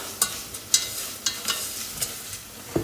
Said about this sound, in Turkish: Şimdi yaklaşık böyle bir yemek kaşığı kadar un ekliyorum. Ve bunu bir güzelce ne kokusu çıkana kadar devam kavuracağım.